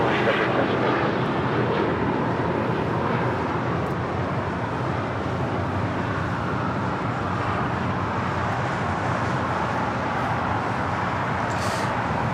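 A Delta Air Lines Airbus A321neo arriving at Los Angeles International Airport gives a broad, steady jet roar that swells and holds throughout, with faint wind and traffic underneath.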